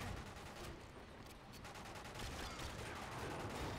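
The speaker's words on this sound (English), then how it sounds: "I wanna shoot this guy" Continuous gunfire in the Quantum of Solace video game, played on console, forms a steady, fairly faint stream of overlapping shots lasting throughout, with no voice over it.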